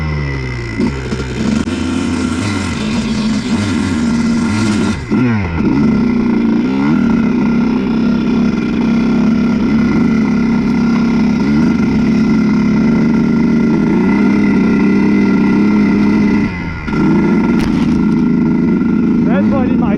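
A Honda CR125 two-stroke dirt bike engine runs loud and close in snow for the whole stretch, holding a raspy steady drone with a few sharp revs and throttle blips; someone talks over it.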